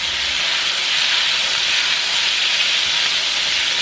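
A burger patty for a patty melt sizzles loudly on a griddle just after flipping, producing a steady, bright, close hiss with no pauses.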